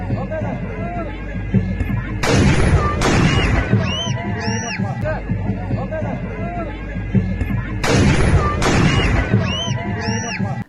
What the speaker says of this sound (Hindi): अब एक और वीडियो सामने आया है जिसमें एक व्यक्ति गोली चलाते दिख रहा है।